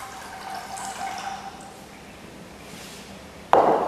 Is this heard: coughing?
no